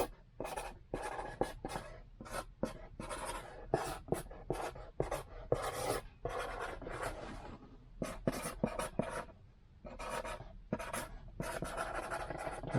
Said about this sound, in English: I'm going to write inside the box.